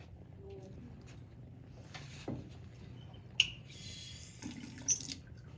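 Running tap water splashes steadily as pennies held in forceps are rinsed in a lab sink, a low continuous wash with a couple of small clinks and knocks partway through; speech is tagged but no words come through.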